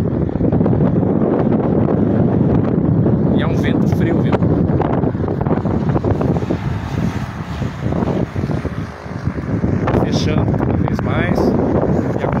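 Strong, gusting wind from an approaching late-afternoon storm in Santa Bárbara d'Oeste roars continuously across the microphone in a dusty outdoor setting, with someone talking over the loud, buffeting rush.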